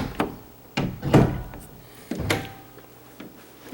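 A sagging double door is opened and closed several times, giving sharp wooden knocks and thuds with short scraping sounds between them, close by and with no talking.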